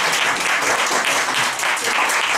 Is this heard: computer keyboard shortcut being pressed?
no